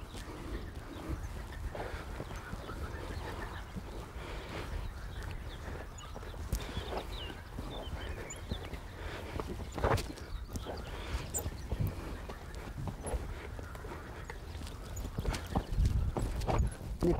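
A six-year-old Selle Français stallion moves through a dressage warm-up, its hooves thudding in a steady rhythmic clip-clop on arena footing under a continuous background hum, with no talk.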